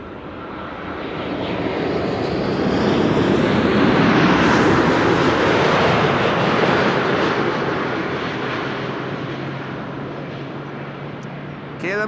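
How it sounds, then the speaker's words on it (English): GE90 jet engines starting up at Amsterdam Schiphol Airport, a loud broad whooshing roar that swells over several seconds, peaks, then slowly eases off, with faint talk underneath. "Unmistakable sound of GE90s being started over there."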